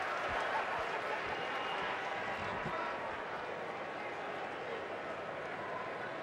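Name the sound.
sarcastic applause from the home baseball crowd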